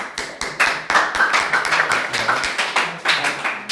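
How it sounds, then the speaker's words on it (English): An audience claps together in a round of applause, a dense run of hand claps that holds steady for a few seconds. "you have to give yourself a big round of applause"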